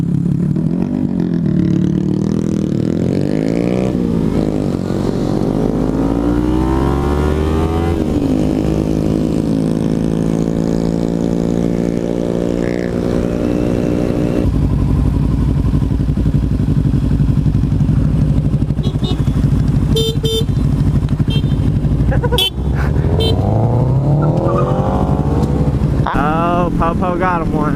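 A Kawasaki Ninja 300 motorcycle accelerates hard through rising gear-by-gear revs, running loud and close alongside a Scion FR-S car, with an engine tone that climbs, drops at shifts, and climbs again, and brief clatter near the end.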